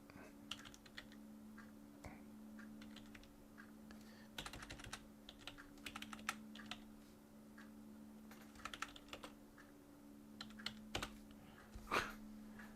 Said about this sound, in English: Can't get my fingers on the keyboard right.